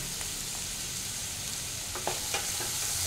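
Capsicum fries in a pan with mixed vegetables for Hakka noodles, a constant soft sizzle with a few light stirring scrapes toward the end.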